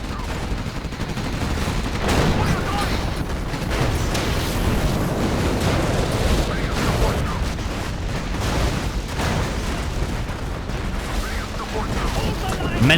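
Minigunner gunfire in the strategy video game Generals Evolution, a dense, unbroken fusillade of rapid shots and booms from a six-player free-for-all battle, loud and sustained throughout, with someone commentating over it.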